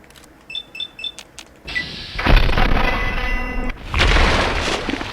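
A turret opening fire in Fallout 3, a sustained loud roar of shots following a few beeping tones, with a brief pause before a second heavy burst; no talking.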